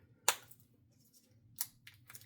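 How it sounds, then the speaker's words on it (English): Plastic wrap being peeled off a new tarot card deck, a few sharp crinkling snaps and rustles close up against a quiet room hum. "So we're going to take this plastic off."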